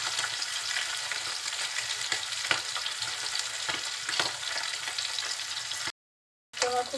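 Pabda fish sizzling as it fries on its second side in a pan, a steady close hiss with faint crackles, broken by a brief silence near the end before the sizzle resumes.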